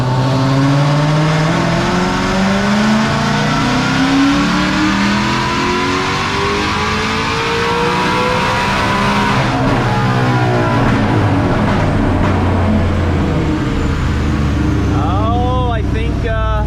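A fully built, supercharged 2016 Mustang GT runs a dyno pull, its engine loud and close as it climbs steadily through the revs for the whole stretch, tone rising and dropping briefly near the end.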